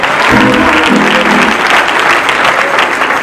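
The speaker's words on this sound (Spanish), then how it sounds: "Clap your hands unto the Lord." A congregation at a church service clapping their hands together, a loud, dense and steady wash of applause with a low voice briefly audible at the start.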